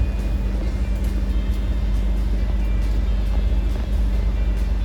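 Steady, loud engine rumble of a bus, heard from a seat in the back row during a trip from Vietnam to Cambodia, droning continuously with road noise and no break.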